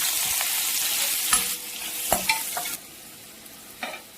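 Green chillies and garlic cloves crackle in hot oil in a pan, a bright sizzle stirred with a few distinct spatula knocks before the frying quiets down.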